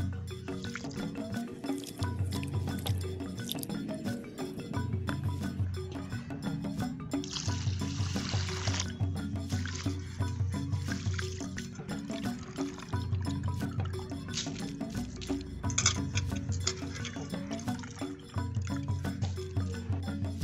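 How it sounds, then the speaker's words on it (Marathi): Raw rice being rinsed clean in a bowl of water, with steady wet swishing, dripping and trickling sounds close by, running on continuously with brief brighter splashes, and no talk. "हे तांदूळ मी आता स्वच्छ धुवून घेणार आहे।"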